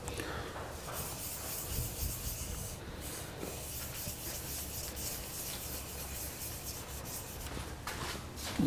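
A wooden necklace pendant is hand sanded with the grain, giving a steady close rubbing and scratching texture in continuous strokes.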